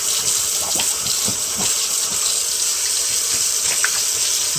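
Water runs steadily from a kitchen tap over a slab of cured bacon being rinsed and rubbed down, a constant close hiss with faint splashes and no talking.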